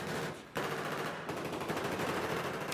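Rapid machine-gun bursts from a video game battle on the Zavod map rattle in dense, overlapping volleys, moderately quiet and continuous, with no talk.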